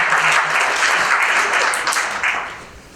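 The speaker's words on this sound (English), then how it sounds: "Can you clap for yourselves for being here?" Audience applause at a Dr. Martin Luther King Jr. celebration in Cleveland Heights, a dense, loud burst of clapping from a large crowd that tapers off near the end.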